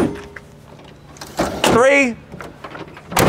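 A Ford tailgate step on a 2022 Roush F-150 unfolds close by with a heavy clunk and a short squeaky mechanical slide, while a voice counts aloud before and after.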